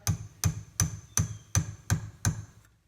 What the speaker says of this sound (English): I have a hammer. It doesn't need to be this big. Just tap the end of the rod.